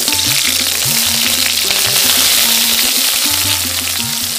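Carrots frying in hot white oil in a wok, with a loud, steady sizzle that continues without a break and has no talk over it.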